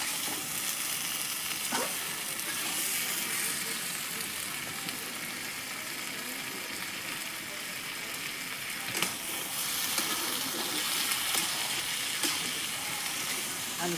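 Mutton frying and being stirred in a small pan, a steady loud sizzle throughout with occasional scrapes of the spoon against the pan.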